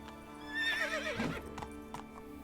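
A horse, Roach, in The Witcher 3 video game, neighing and whinnying with clip-clop hoofbeats, close and fairly loud, set against a steady game soundscape with no talking.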